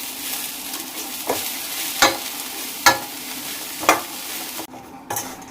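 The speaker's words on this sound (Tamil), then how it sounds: "ஸோ நம்ம இதை வறுத்து எடுக்கணும்." Steady oil sizzle of shrimp frying in a pan, with a few sharp scrapes and clinks of a utensil stirring at irregular intervals.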